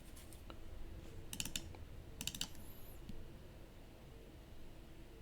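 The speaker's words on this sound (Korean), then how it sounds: "더블 클릭했지" A computer mouse gives a few quick, sharp double clicks in brief paired bursts over a quiet room background, with no one speaking.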